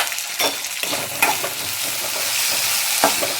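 Chutney ingredients with tamarind sizzle and fry in a pan while being stirred, giving a steady crackle broken by a few sharp scraping stirs, close and alone.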